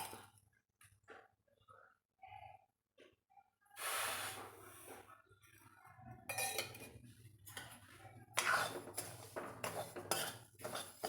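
Semolina is dry-roasted and stirred in a pan, with quiet scattered clinks and scrapes at first, then a spoon scraping and rustling against the metal in bursts, fairly faint.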